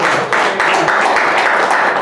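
A crowd claps in a dense, continuous wash of applause throughout, loud and close, at an evening veterans' event.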